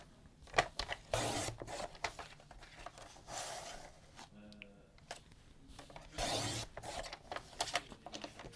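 Paper strips for a photo album are trimmed with soft, steady scraping and rubbing, faint and close, running almost continuously with a few slightly louder swipes.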